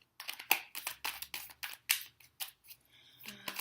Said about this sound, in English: Sorry for all this shuffling.